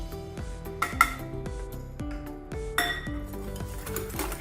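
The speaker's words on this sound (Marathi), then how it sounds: "आता हे चांगलं व्यवस्थित असं मिक्स करून घ्यायचं" A spoon or whisk stirs wheat-flour chocolate cake batter with milk, sugar and oil in a metal bowl, giving close, repeated clinks and scrapes in an uneven rhythm, with no talk.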